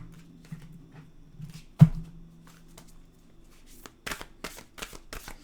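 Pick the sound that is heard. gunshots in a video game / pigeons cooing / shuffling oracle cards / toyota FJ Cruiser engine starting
shuffling oracle cards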